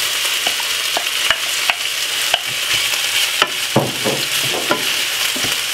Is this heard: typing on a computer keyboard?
no